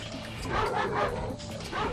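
Dog enemies in the video game Ratchet and Clank, a string of yipping, whimpering barks that rise and fall over two seconds, fairly loud and up front among game sounds.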